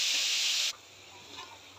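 Beetroot stir-fry (bit bhaji) sizzling in a pan, a loud, steady hiss that cuts off abruptly after under a second, leaving a faint low crackle of frying.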